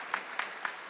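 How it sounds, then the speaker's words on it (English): Sparse applause at an Indian classical music festival, heard as a few separate, spaced claps that are fairly faint in a quiet hall. "please give him a big round of applause"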